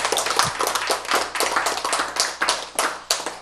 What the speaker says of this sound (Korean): 박수 한번 쳐야지.